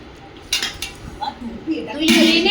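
Dishes and cutlery clink in a shared-flat kitchen while chicken is served and rice is covered, a few bright knocks and clatters building to a louder burst at the end, with voices talking in the background.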